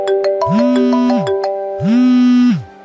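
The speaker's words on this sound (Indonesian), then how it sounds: "ponsel yang digenggamnya berdering." A mobile phone ringtone: a melodic electronic tone sweeps up and holds, then repeats after a short pause, with bright chime-like notes ringing alongside; no voices.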